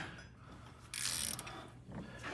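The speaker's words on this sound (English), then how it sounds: "So our stud extractor." A stud extractor grinding and ratcheting as it turns seized old head studs on a 1937 Packard Super Eight engine, quiet mechanical creaking with one louder scraping burst midway.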